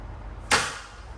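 Sharp cracking snap of a carbon fiber decklid being pried off an S197 Mustang, a single loud burst that trails off quickly over a quiet background.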